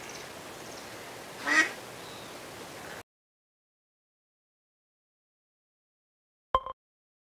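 A cartoon duck gives a brief nasal quack, first a faint one, then after silence a single clear quack, with no voices.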